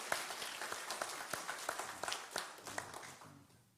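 A small congregation at a morning sermon gives another round of applause: sparse, scattered claps, fairly faint and thinning out, fading away by the end.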